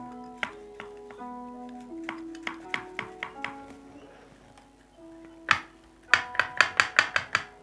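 A series of hollow knocks on a carved sandat-wood mask, tapped one by one at varying pitch with a faint ringing tone behind, ending in a quicker run of sharp taps.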